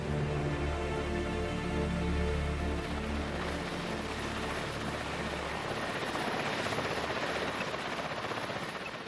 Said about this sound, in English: the helicopter provides a distraction